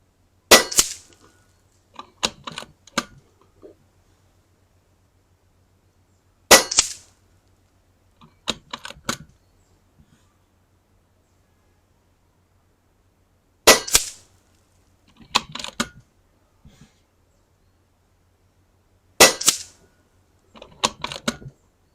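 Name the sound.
Kalibrgun Cricket 2 air rifle shots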